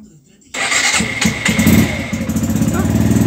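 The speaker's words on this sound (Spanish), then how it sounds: "Vamos a prender la moto." Suzuki Gixxer SF 150 FI motorcycle engine starts with a sudden loud catch, then settles into a steady, close idle with a light rhythmic throb.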